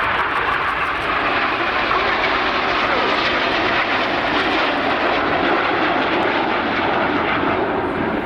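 Red Arrows jets rolling during the RAF Cosford Airshow fill the air with a loud, continuous jet roar, broad and steady for the whole stretch without any clear voice over it.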